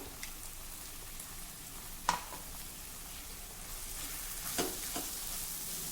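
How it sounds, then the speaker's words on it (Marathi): A roasted peanut, coconut and spice mix sizzles softly while being stir-fried in a pan, with a steady frying hiss and a couple of sharper scraping stirs of the spatula, no talking. "हे देखील अर्धा मिनिटासाठी यासोबत थोडं परतवून घेऊ."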